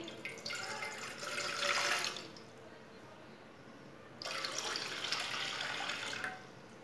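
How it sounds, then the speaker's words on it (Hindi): Water pours into a pot for spiced tea with cardamom and cloves. It comes in two steady, gushing bursts with a quieter pause between them, fairly faint and with no talking. "दो कप पानी डाल लेंगे"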